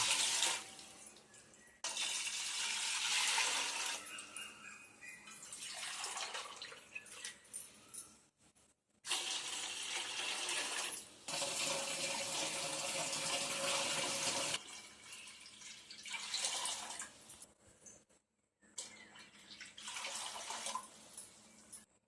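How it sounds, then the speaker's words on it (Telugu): Water gushes and splashes into a pot of sago in several separate pours with pauses between them, close and fairly loud. "ఇప్పుడు ఆరు గిన్నెలు నీళ్లు పోస్తుంది"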